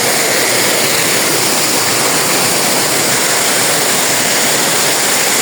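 Mothers Falls waterfall in Maria Aurora pours in a loud, steady, unbroken roar of rushing water, dense and close, with no voices or other sounds rising above it.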